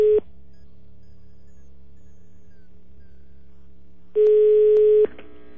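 A telephone line hums with a steady dial tone, then a short burst of keypad tones plays as a number is dialed for a prank call. Heard close over the handset, with no voices.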